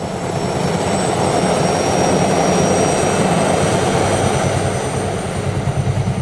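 A loud, steady helicopter engine roar with a constant whine on top, continuous for several seconds with no voices.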